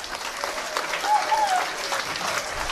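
Audience applause at a school excellence awards ceremony in Bertoua, a steady wash of clapping with a brief whistle or voice rising above it.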